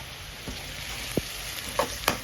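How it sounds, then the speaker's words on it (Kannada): Onions fry in a pan with whole cardamom, cinnamon and cloves, a steady soft sizzle with a few faint scrapes and clicks of stirring over the hiss. "ಈಗ ಈರುಳ್ಳಿ ಫ್ರೈ ಮಾಡ್ಕೊಳ್ಳೋಣ."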